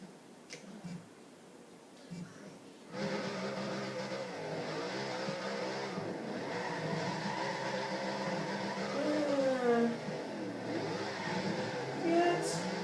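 Car drifting in Forza Horizon 2, a tuned drift build with softened roll bars: a steady engine drone with rising and falling revs and tire squeal sweeps through the middle, held continuously for most of the stretch after a quieter start.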